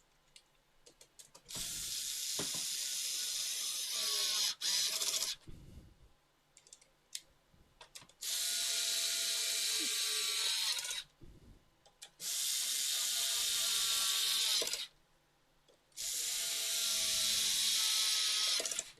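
An electric screwdriver on its lowest torque setting drives T10 screws into a game console or similar electronic device. It runs in four bursts of steady whirring, each a few seconds long, separated by quiet gaps with faint clicks.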